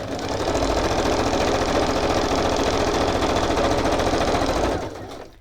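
A sewing machine runs steadily at a fast, even stitching rhythm for several seconds, close up, then slows and stops near the end.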